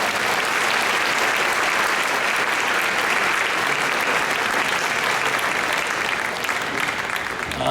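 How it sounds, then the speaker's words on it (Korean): Steady, loud applause from a sizable audience at a Korean church mission conference, sustained evenly for several seconds without letting up. "박수 부탁드립니다"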